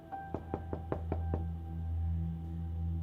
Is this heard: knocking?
yes